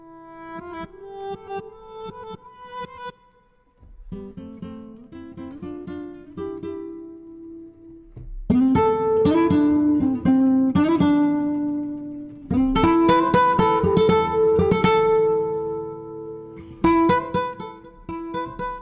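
A rhythmic nylon-string acoustic guitar phrase from a Heavyocity scoring sample library, with plucked, strummed patterns that start soft and sparse, then grow into louder, busier strums. No voices are heard.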